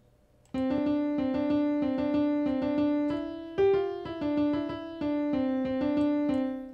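An FL Keys digital electric piano plays a steady repeated-note melody with a few shifts in pitch, clean and close, with no talking.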